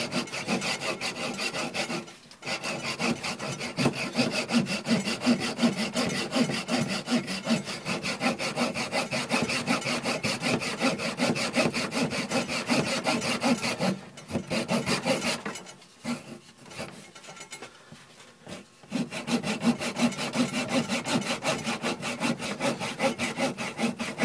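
A bushcraft bucksaw with a dull blade cuts through wood in steady back-and-forth rasping strokes. The strokes stay close and loud, with a few brief pauses and one longer gap near the middle.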